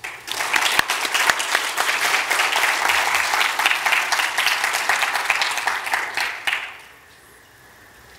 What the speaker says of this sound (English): I invite you all to welcome him with a round of applause